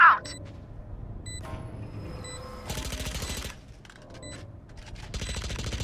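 A Valorant video game turret fires in rapid mechanical bursts, with one longer volley and a later shorter stretch, at moderate loudness among quieter game ambience during a competitive match.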